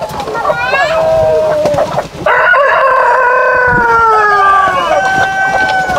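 Tiger chickens on a farm, with a rooster giving loud, close crows in two long drawn-out calls, the second after a short break. Clucking and other fowl calls fill in around the crows.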